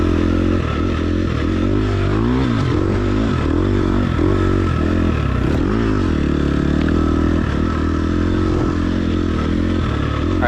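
A fuel-injected motorcycle roars steadily through corners, its engine note dipping and climbing repeatedly as the rider rolls off and back on the throttle, loud and continuous with wind rush.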